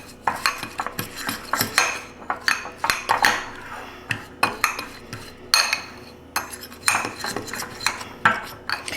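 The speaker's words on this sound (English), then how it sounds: "And now we're just going to mix this together really well." A utensil clinks and scrapes steadily against a bowl as ingredients are stirred together with a tablespoon of ranch seasoning, giving repeated close, rhythmic knocks and scrapes with no talking.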